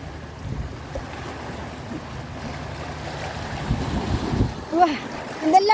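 Sea water washing and surging over coastal rocks during coasteering, with wind buffeting the microphone, swelling louder toward the end. Voices call out over it.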